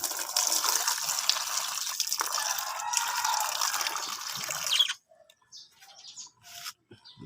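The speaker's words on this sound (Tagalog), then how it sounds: "mainit pa yung ipapakain ko kay Buddy, lagyan ko muna ng tubig itong mga alaga nating rabbit." Water poured out for pet rabbits, a steady splashing gush that runs for about five seconds beside bird chirps, then stops, leaving only scattered faint bird calls.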